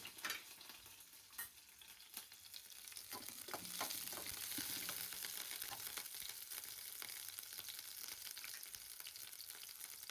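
Green chilies hit hot oil in a pan, giving a steady, close sizzle and crackle that swells after a few sharp pops, with occasional stirring clinks and no talk.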